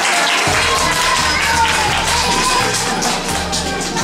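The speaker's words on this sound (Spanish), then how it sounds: "a ver dónde está mi aplauso" An audience at a Christmas hot-chocolate event claps and cheers in a dense, continuous burst of applause that holds steady throughout, with crowd noise mixed in.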